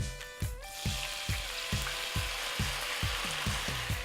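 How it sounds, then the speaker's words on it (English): White wine goes into a hot pan while finishing a sauce, a sharp hiss bursting at first then settling into steady sizzling, punctuated by a regular series of low thumps as the pan is worked; no speech. "So we're gonna add about 1/2 cup of white wine."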